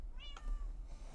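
A single short Minecraft cat meow, rising then falling in pitch, heard faintly and alone.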